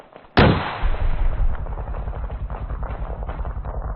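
Rockets fired from an A-10C Thunderbolt II in a military simulation game, one sudden loud launch blast followed by a long roaring, rumbling trail that slowly fades.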